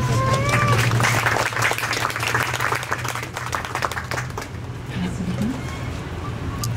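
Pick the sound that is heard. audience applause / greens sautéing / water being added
audience applause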